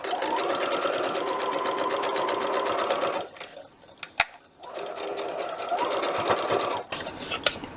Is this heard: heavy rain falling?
no